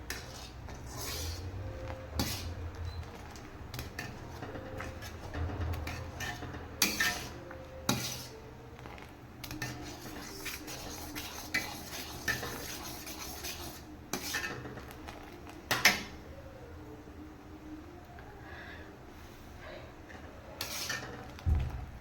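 Milk khoa is stirred and scraped in a pan, giving repeated rasping strokes and metallic clinks of a utensil against the pan at an irregular rhythm, close by and with no talking.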